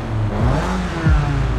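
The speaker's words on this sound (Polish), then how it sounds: "Silnik kręci się do odciny" A BMW E30 engine in Forza Horizon 5 revs hard to the limiter, its loud, close whine sweeping up and dropping back in repeated pulls with no pauses.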